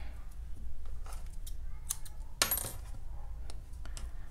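Scissors snip through crochet yarn after a double knot is tied on a crochet top: one crisp close cut over a low steady hum, with soft scattered handling rustles around it.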